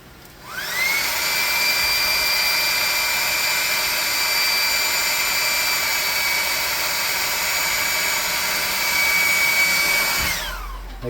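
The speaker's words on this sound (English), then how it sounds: "So we're going to hit this with the hairdryer again." Hair dryer drying paint on a tabletop planter model, switching on with a rising whine, holding a steady loud whirring blow for about nine seconds, then cutting off.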